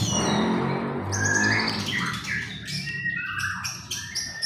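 A white-rumped shama (murai batu) sings loud, varied whistled phrases with sharp chirps and trills, close to the microphone, over steady roadside traffic noise.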